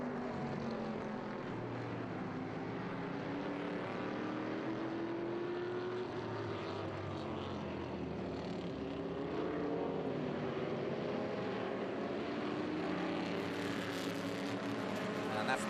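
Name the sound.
Lotus race cars passing on track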